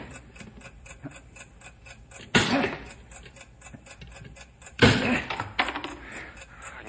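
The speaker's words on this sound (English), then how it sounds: "I can still hear the ticking, Bill" A time bomb's timing device ticks steadily and evenly throughout an old-time radio drama, interrupted by two loud bursts of banging or clattering.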